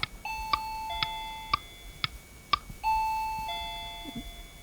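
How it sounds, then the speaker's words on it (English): A quiz show bell rings in a quick run of bright, clear chiming strikes, followed by a longer sustained ding-dong tone, loud and alone without talk. "There goes the bell."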